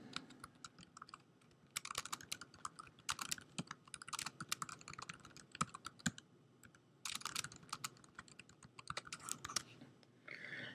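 Typing on a computer keyboard: quick bursts of clicky keystrokes broken by short pauses, close and fairly quiet, with no voices.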